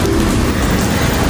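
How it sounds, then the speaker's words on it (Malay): Steady rain falling in Singapore, a dense even hiss of drops heard close and without talk. "Hujan."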